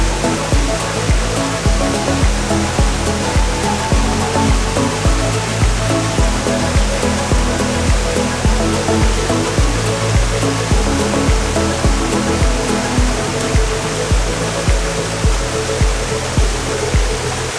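A waterfall in the Adirondack Mountains pours in a steady, loud, broadband roar that stays constant throughout, with no voices.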